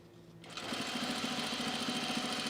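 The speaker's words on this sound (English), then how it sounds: "it makes my machine sound a little rough when I'm sewing with the bobbin winder going" A home sewing machine starts up and runs steadily with its bobbin winder engaged, giving a continuous, slightly rough, heavy whir with a fixed hum, close and loud.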